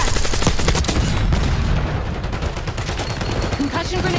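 Enemy gunfire in a shooter video game, dense automatic bursts crackling steadily throughout, loud and close with a voice speaking over part of it.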